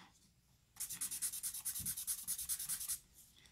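Nitram charcoal stick rubbing on drawing paper with an abrasive feel, a steady run of about a dozen quick scratchy strokes lasting two seconds, close and clear with no talking.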